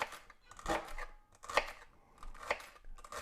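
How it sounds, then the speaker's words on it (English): A knife chops ingredients on a cutting board while preparing a smoked Mississippi-style pot roast with chuck roast; a few sharp, separate cuts land at irregular intervals, close by, with quiet room noise between them. "As soon as we get this stuff chopped up, the egg ought to be up to temperature."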